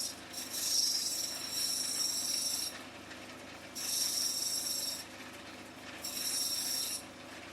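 An opal is ground on a fast 180 grit wheel in three repeated passes, each a bright, hissing rasp lasting about two seconds, separated by quieter whirring of the wheel.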